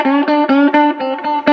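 Electric guitar through a Mooer Solo distortion pedal, a short run of sustained, harmonically rich distorted notes played one after another, each roughly a fifth of a second, close and loud with no talking.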